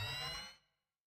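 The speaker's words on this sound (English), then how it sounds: "An ear-piercing alarm cries out from the residence." Ear-piercing electronic alarm sounding from a residence in a video game, a bright buzzing tone heard alone that cuts off and fades to silence within a second.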